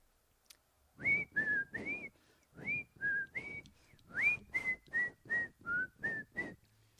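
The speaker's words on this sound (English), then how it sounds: "old man gets up and slowly walks upstairs, whistling." A man whistles a short, bouncy tune, with clear separate notes in a quick rhythm, close and alone in a quiet room.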